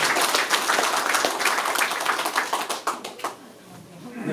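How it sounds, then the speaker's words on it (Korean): A crowd at a Korean political rally backing a presidential candidate claps loudly and energetically, with sharp individual claps standing out, then the applause thins and fades away toward the end. "제 말에 동의해 주시면 박수 한번 크게 쳐주세요."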